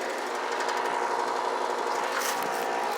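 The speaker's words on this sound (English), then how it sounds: "It has a Copeland scroll compressor." A Comfortmaker air conditioner with a Copeland scroll compressor runs outdoors, giving a steady, fairly faint mechanical hum and rattling whir for a few seconds with no talking.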